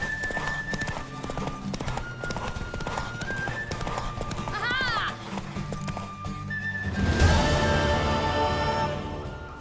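Rhythmic clip-clop of horse hooves in the video game The Witcher 3: Wild Hunt runs throughout over a busy background, with a horse whinnying midway and a louder crash-like surge later.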